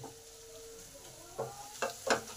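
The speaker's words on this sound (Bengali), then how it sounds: "মশলাগুলো 5 থেকে 6 মিনিট ভালো করে ভাজতে হবে।" Spice masala sizzles in hot oil for muri ghonto, a Bengali fish-head and rice dish, under a low steady fry, with a few distinct scrapes of a spatula stirring near the end, close and without speech.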